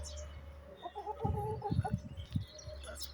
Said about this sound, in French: La petite poule blanche.